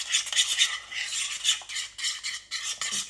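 A spoon mixes Greek yogurt and mayonnaise into a thick sauce in a bowl, making repeated wet, scraping swirls in a quick even rhythm. It is close up, with no voices.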